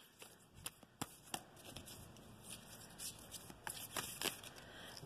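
Oracle cards being shuffled by hand, a quiet run of soft, papery riffles and snaps close to the microphone, with no talking over it.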